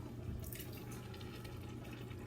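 Faint tap water runs steadily into a crushed-tomato can being rinsed out in a kitchen, a soft continuous splashing stream with some brighter spatter partway through.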